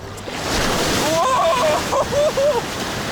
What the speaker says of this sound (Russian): смотрите, какая волна на нас движется